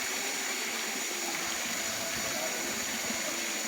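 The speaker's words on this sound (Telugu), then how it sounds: "చూడండి జలపాతం ఇక్కడ వస్తూ ఉంది వాటర్." Bhairavakona waterfall at a devotional tourist spot, water pouring in a steady broadband rush that fills the whole clip without pause, with faint background activity under the continuous roar.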